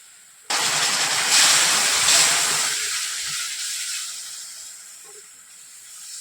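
Hot sugar syrup poured into moong dal roasted in ghee bursts into a loud, sharp hiss that slowly fades to a softer, lingering sizzle over several seconds, close up with no talking.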